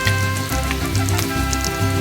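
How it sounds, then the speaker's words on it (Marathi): Surmai fish pieces coated in flour and rava fry on a hot tawa, giving a steady, close sizzle with crackling oil pops and faint pulsing hiss throughout. "आणि फ्राय करायची आहे तव्यात."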